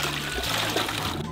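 A short, close watery splash and trickle, as an egg drops into toilet water.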